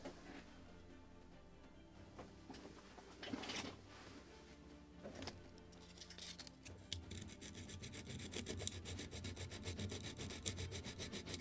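Steady scraping and rubbing of sandpaper against the wooden hull of a lobster smack model kit, with repeated strokes that grow louder and more continuous toward the end, heard up close without speech.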